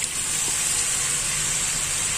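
Potatoes fry in a hot pan with ginger-garlic paste and green chili paste, a steady close sizzle and hiss that holds evenly throughout, with no one talking.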